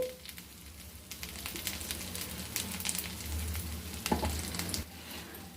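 Asafoetida hits a hot pan of curry leaves just after the stove is switched off while curry leaf powder is being made, giving a steady crackling sizzle with scattered pops and spatters and no voices.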